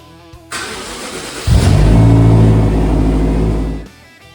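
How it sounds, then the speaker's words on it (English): A BMW X5 M cranks and fires up, a brief starter whir followed by a loud engine catch that settles into a steady, close idle for about two seconds before cutting off. "So now I'm gonna go ahead and fire up the car and watch this thing rise"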